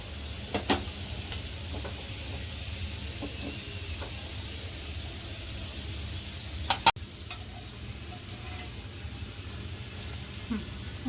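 Rava-coated slices of suran (elephant foot yam) shallow fry on a tava with a soft, steady sizzle, marked by occasional spatula clicks and one sharp clack midway, all fairly quiet.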